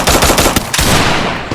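Rapid automatic gunfire from the Free Fire battle-royale game during a Clash Squad tournament match rattles loud and continuous, with a brief break before more bursts.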